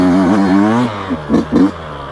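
A 2020 Yamaha YZ125X two-stroke dirt bike ridden in first gear through a difficult section, a loud close engine note rising in pitch, then easing off into a few short throttle blips.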